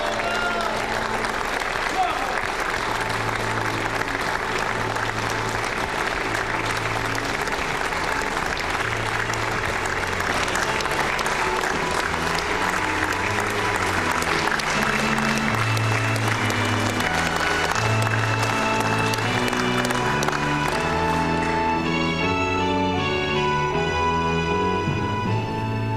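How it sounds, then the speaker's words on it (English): A large crowd claps steadily and loudly for a men's team at a 2006 pool championship match, the applause continuing without break and mixing with an announcer's voice and stirring music. "Please, a big, big round of applause for Team Malta!"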